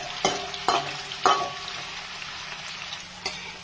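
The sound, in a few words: potatoes frying in oil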